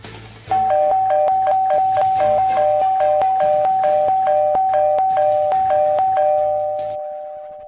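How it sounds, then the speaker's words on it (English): A doorbell chimes over and over in a rapid, insistent two-tone pattern, loud and close, before cutting off and letting the last tone fade. "They keep ringing my doorbell so aggressive."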